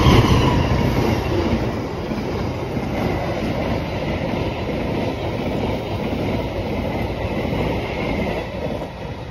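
The Argo Semeru passenger train bound for Yogyakarta rolls past a level crossing, a loud steady rumble of wheels on rails with faint clacking and a high squeal, sustained throughout.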